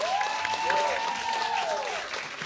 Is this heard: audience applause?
yes